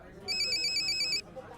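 A mobile phone rings with a brief, bright, rapidly pulsing electronic tone lasting about a second before cutting off.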